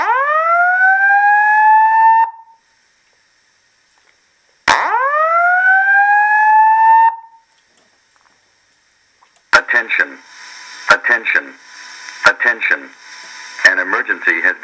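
A Simplex fire alarm signal sounds through a Wheelock ET-1070-LSM-24 speaker, fed directly from a stereo: two loud rising whoop tones separated by a pause, then a series of loud, choppy electronic voice bursts.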